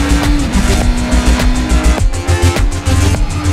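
Honda CB650R motorcycle with E-Clutch riding on open roads, its engine note loud and continuous with rapid pulsing and a steady pitched whine, some shifting in tone partway through, no voices.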